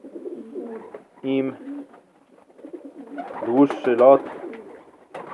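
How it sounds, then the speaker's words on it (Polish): A female racing pigeon of the Arden line coos in short throaty bursts, close by, while a person talks over and between the calls. "Samica z linii gołębi Arden."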